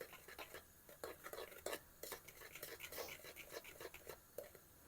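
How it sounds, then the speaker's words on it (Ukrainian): Semolina and eggs stirred in a bowl with a utensil, giving quiet rhythmic scraping and light clinks against the sides, close and faint, with no talking. "Перемішую."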